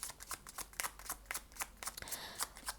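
Tarot cards are shuffled and handled close by, a rapid series of crisp riffling flicks and soft slaps in an uneven rhythm, fairly quiet with no talking over it.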